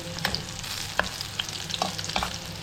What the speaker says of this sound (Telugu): చూడండి, వెల్లుల్లి ఎర్రగా వేగుతున్నాయి.